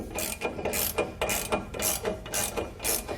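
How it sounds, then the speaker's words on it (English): A ratchet with a 3/4 inch or 19mm socket tightens nerf bar bracket bolts on a 2019 Chevrolet Silverado 1500, about eight quick clicking bursts in a steady back-and-forth rhythm, close and clear, with no talking. "you want to use either a 3/4 inch socket or a 19mm socket to tighten those up"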